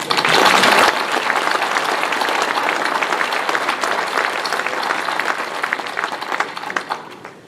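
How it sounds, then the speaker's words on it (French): Sustained audience applause at a town New Year's greetings ceremony in Comines, many hands clapping densely and evenly before gradually tapering off toward the end. "Vous pouvez l'applaudir elle aussi."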